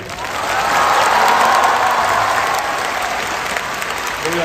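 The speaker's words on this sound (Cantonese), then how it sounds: "我哋俾啲掌聲。" A Hong Kong concert audience at a 2023 show claps loudly, a dense, sustained burst of applause that swells and then holds steady with faint crowd noise.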